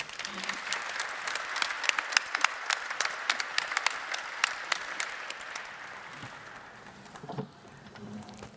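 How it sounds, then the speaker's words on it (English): Audience applause at the Arab American National Museum 2016 gala, a fairly faint, sustained patter of many hands with sharper individual claps standing out, slowly thinning toward the end as a few voices murmur underneath. "Please join me in giving the ladies of the Friends Committee and the staff a big round of applause."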